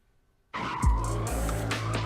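A fast car burning rubber in a street race: tires suddenly shriek into a loud sustained squeal with a roaring engine beneath, close and continuous after a short silence.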